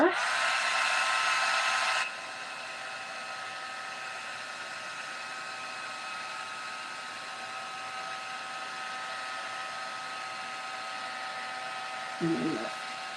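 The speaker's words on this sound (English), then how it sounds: "I'm gonna dry it like we did before." Dryer blowing onto a layered inked art background, a loud steady whoosh for about two seconds that then drops to a softer continuous hum, with a short handling knock near the end.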